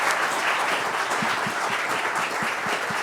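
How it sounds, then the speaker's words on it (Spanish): An audience at the official launch of a national statistics plan applauds the panelists, a close, lively burst of many hands with a few sharp individual claps standing out, and no talking. "quisiera solicitar un fuerte aplauso para ustedes"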